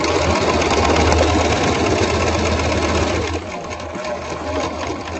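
A sewing machine stitches two pieces of fabric placed right sides together, sewing just inside a cut edge. It gives a steady, close, buzzing whir that runs unbroken and eases slightly in the last seconds, with no voices.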